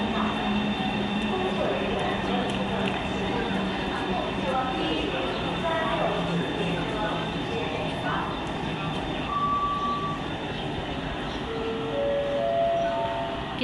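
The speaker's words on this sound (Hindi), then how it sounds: "और ये आ गई हमारी ट्रेन।" A long passenger train pulls into a station platform in Taiyuan, China, a steady rumbling roar filling the whole stretch with faint tonal squeals, while people talk nearby over it.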